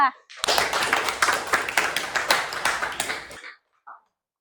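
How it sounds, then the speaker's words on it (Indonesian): A classroom of students claps for a presenting group, a short burst of close, rapid hand clapping that cuts off abruptly, followed by a brief sound. "Akan kasih tepuk tangan untuk kelompok 2"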